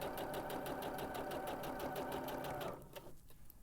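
A sewing machine runs in a fast, steady rhythmic stitch while sewing down a garment bag, close and continuous before it stops abruptly near the end, leaving faint room noise.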